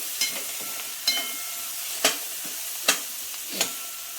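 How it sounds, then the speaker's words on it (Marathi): Coriander, onions and potatoes being sautéed for poha get stirred in a pan, with about five distinct scraping strokes roughly a second apart over a soft, steady sizzle. No one speaks. "आता आपण थोडीशी कोथिंबीर अशी कांद्यात चांगली परतून घ्यायची"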